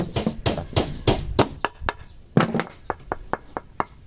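A series of sharp, percussive bursts, first in quick clusters, then as evenly spaced hits, as a Dongcheng DZJ02-13 concrete drill bites and knocks into hard wood.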